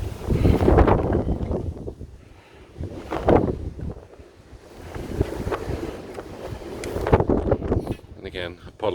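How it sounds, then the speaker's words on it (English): Wind buffets a microphone outdoors beside a Ford Focus ST, rising and falling in loud rumbling gusts, with brief faint movement noises between them. "Oh, that's the wind."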